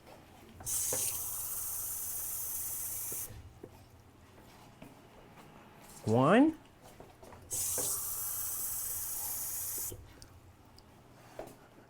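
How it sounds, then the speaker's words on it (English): Two cups of water pour into a pot of rice on a home kitchen counter, a steady hissing splash running for a few seconds, pausing, then returning for a second long pour, with a brief spoken word between. "So we're going to add in 2 cups of water."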